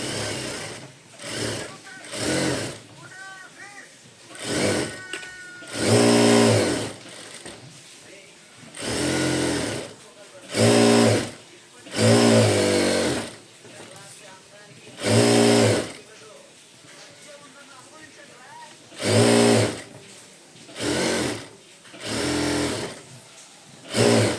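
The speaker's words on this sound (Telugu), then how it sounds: "ఇప్పుడైతే లైనింగ్ చుట్టూ అయితే మనం స్టిచ్ వేసుకుందాము." A sewing machine stitches around the lining of a small child's blouse in repeated loud bursts of a few seconds each, separated by short pauses, with quieter handling sounds in between.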